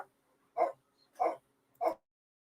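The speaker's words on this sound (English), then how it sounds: "The dogs just want to talk to you guys too." Dogs indoors give three short, evenly spaced barks, each a brief, fairly faint yelp separated by silence, with no talking.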